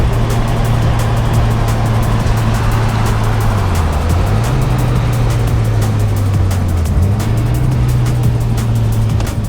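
Steady low drone of an R33 Skyline with a turbocharged RB25DET engine, the pitch dipping and recovering a few times as the throttle changes, with a constant loud rumble and no clearly separate flutter bursts.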